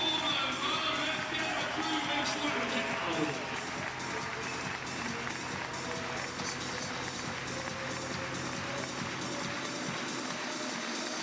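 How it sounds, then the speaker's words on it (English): A big indoor arena crowd at a fitness competition final cheers and applauds, a dense continuous roar of clapping and shouts that holds loud throughout. "Again, a great crowd in here in Bella Arena, cheering athletes all the way through to the final seconds."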